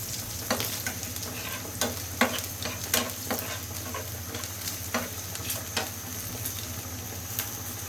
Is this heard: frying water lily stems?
yes